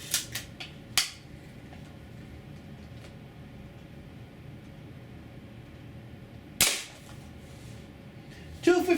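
A Daisy air rifle fires on a chronograph, a few sharp snapping shots scattered across a quiet room, with small clicks and handling noises between them.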